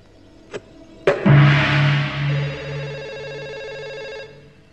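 After two sharp knocks, a telephone rings indoors with a fairly loud, sustained electronic trill lasting about three seconds, with no talking over it.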